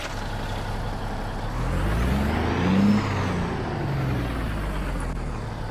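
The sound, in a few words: truck engine starting in video game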